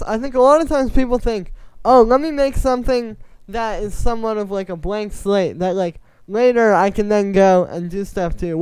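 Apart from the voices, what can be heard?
None of the usual background noises is heard.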